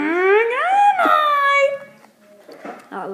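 A voice imitates the Dragonite Pokemon cry: a rising, harmonic-rich wail that swells and sustains for over a second, then breaks into short, quieter vocal bursts, loud and close.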